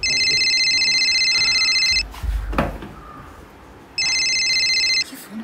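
A telephone rings in two bursts of electronic trilling, one long ring, a brief pause with a low thud, then a second ring starting near the end.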